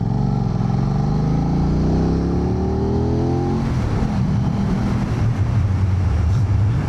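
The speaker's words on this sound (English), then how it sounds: "The sound really reminds me of the Touareg, of course, because yeah, that's practically the same bike." A 2025 Aprilia RS660 Factory motorcycle engine accelerating hard through the gears, a loud rising growl that climbs in pitch, drops at a shift, then roars on with rough, close wind-buffeted noise.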